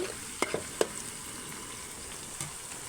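Sliced bitter gourd fries in oil on a stove turned down to low heat, a soft continuous sizzle broken by a few sharp stirring clicks early on and one more near the end.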